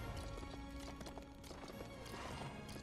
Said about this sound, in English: Flaming horse.